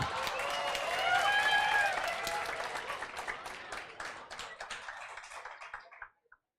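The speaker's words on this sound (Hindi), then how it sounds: "नहीं, तुम इतने जोर से तालियां बजाए," Students in a CA Foundation law class applaud together, a loud burst of clapping close by that swells, then gradually thins out into scattered claps before stopping.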